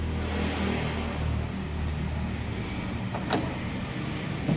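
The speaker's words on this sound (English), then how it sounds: "when your wiper motor works, it'll make a sound when you turn on the wash and wipe function" A newly fitted car wiper motor runs the wash-and-wipe function, giving a steady mechanical hum that holds level for several seconds, with a brief sharper whir near the end.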